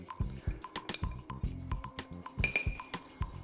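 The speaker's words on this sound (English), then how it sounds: "And then we give that a good mix." Spoon clinks repeatedly against a bowl as mustard powder and smoked paprika are stirred into a pulled pork rub, a quick irregular run of close, bright taps and scrapes with no talking.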